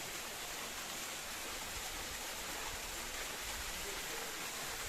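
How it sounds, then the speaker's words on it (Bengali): At Khoiyachora waterfall in Sitakunda, Chittagong, water falls in a constant, even hiss and rush of broadband noise, steady throughout with no voices. "অনেক সুন্দর ঝর্ণাটা এই যে পানি পড়তেছে একটু একটু করে ঝর্ণা থেকে"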